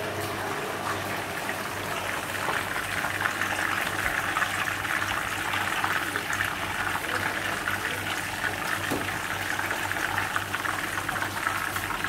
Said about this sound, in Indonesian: Si daging burger itu digoreng